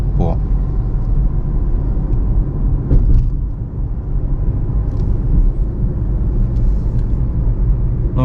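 A car driving slowly and smoothly along a narrow road, hugging the left edge, with a steady low engine and road rumble throughout and someone talking over it.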